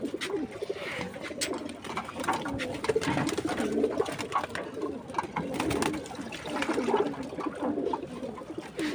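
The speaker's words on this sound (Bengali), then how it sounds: "এই কবুতরগুলো পানি খাচ্ছে আলহামদুলিল্লাহ" Pigeons drinking from a water dish coo in repeated low, throaty calls close by, with splashing water and light background noise; faint talk now and then.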